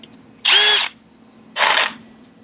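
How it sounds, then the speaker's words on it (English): Two short bursts of a power drill spinning an OD chamfer tool on .223 brass cases, each about half a second, loud and close with a quiet pause between. "we got our OD chamfer tool here chucked up in our drill"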